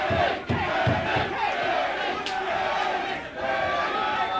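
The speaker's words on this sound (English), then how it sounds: "The crowd is exalting Vinny." A large crowd at a martial arts fight roars and cheers continuously, a loud, dense wall of voices with occasional louder shouts rising out of it.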